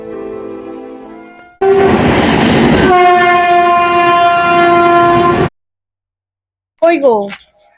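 A train rumbles loudly past at close range, and long, sustained horn blasts ring out over the noise. The sound cuts off abruptly into silence, then a brief, bending horn-like tone follows.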